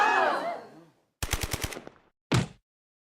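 A German-made MP5 submachine gun of 1960s design fires in a Star Trek video game: a crisp burst of about five shots follows a short stretch of speech, then one more loud blast rings out after a brief pause.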